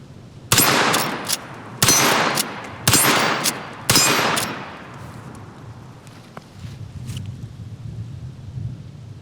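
Four sharp, loud gunshots from a Henry Model X .44 Magnum lever-action rifle, spaced about a second apart outdoors. Each shot rings off in a short decaying tail before quiet ambient noise returns.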